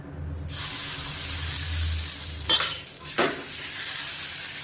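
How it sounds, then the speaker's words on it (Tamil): Appam batter made with kattuyanam rice cooking in an iron appam pan, a steady close sizzle with a brief stirring or scraping rustle partway through, no voices. "இப்போ இதே மாதிரி இன்னொரு ஆப்பம் விட்டுக்கலாம்"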